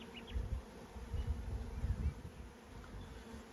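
Honey bees buzz steadily at a hive on a warm day, a low, dense hum rising and falling in waves, fairly close and without voices.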